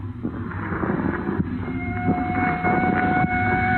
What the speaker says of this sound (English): What is there about police drivers? Even out in the country, they got to lay on those sirens.